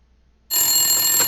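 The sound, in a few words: telephone ringing in a video game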